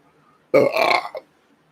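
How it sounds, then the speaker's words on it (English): A single loud, close burp, one rough sustained belch ending with a short second gulp, standing alone in otherwise quiet surroundings. "there was one of them burps I was waiting for"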